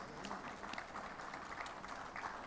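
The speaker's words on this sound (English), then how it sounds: "Can we hear a big round of applause for Mr. Lauren for being here at the end moment?" Continuous clapping from an audience at an event honouring a guest, a faint, even patter of many hands sustained throughout without pauses.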